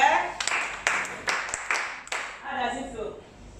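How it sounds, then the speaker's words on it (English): A small group claps briefly for a participant during a photography session, a few scattered claps under a speaking voice, loud and close. "Clap for her."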